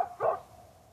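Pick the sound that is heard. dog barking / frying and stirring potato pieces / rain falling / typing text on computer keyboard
dog barking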